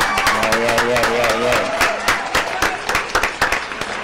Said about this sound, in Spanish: vamos a recibir con fuerte aplauso